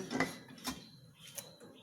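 A lid set on a pot of meatball soup (bakso) in a home kitchen, giving a couple of short clinks and clatters that are quiet and close, with no talk over them.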